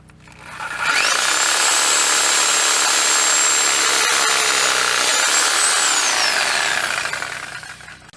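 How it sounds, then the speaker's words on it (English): Kobalt reciprocating saw fitted with Dewalt blades cutting through an old stump outdoors, a loud, steady buzzing saw run that ramps up, holds for several seconds and winds down, with no talking. "We'll have this out of here in no time with the Kobalt Reciprocating saw and Dewalt blades."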